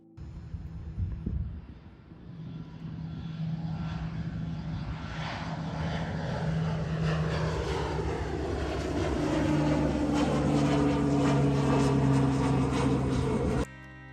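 Propeller airplanes flying overhead produce a droning engine and propeller hum that swells steadily louder over about fourteen seconds, with shifting tones as they pass, and no voices.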